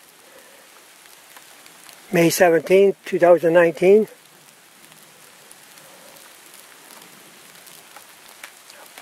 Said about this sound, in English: Get the heck out of here, it's raining like crazy.